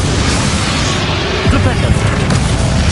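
Expelliarmus spell cast in Hogwarts Legacy, a loud booming magical blast with crashing impact noise, dense and close over the full few seconds, with a voice talking over it.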